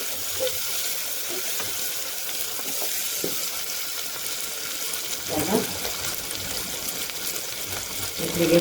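Whole spices crackle in hot oil for chana masala, a steady close hiss with occasional soft pops and light utensil taps throughout, with no voices.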